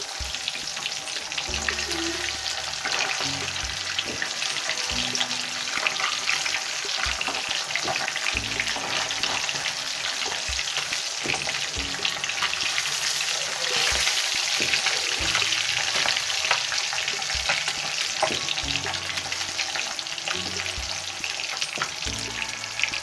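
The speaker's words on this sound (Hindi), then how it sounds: "गोल्डन ब्राउन होने तक मछली को पकाएंगे। अब हम इसकी साइड चेंज करेंगे, दूसरी तरफ से भी इसको पका लेंगे।" Fish pieces fry in hot oil in a pan until golden brown, a steady, close, dense sizzle with faint crackle that runs unbroken throughout, with no talking.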